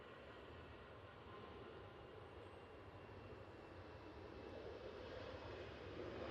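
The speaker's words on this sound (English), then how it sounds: "Right, EasyJet now on the roll." An EasyJet airliner rolls down the runway at Manchester Airport, its engines a steady, distant broadband roar that builds gently and stays constant throughout.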